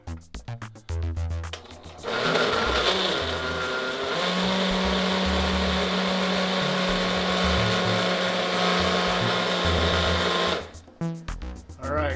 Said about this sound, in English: So let's get the blender ready here.